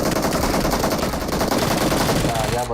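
Rapid Uzi submachine gun fire in the mobile shooter BGMI rattles continuously and loudly for nearly three seconds, dense unbroken bursts with no pauses.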